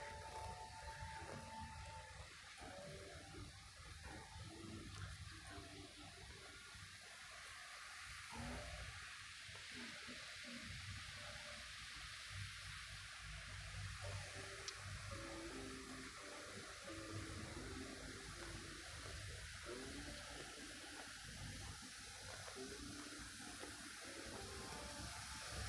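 Steady broadband rush of a waterfall in Nan Lian Garden, continuous and moderately distant, filling the whole stretch without pause and with no voices.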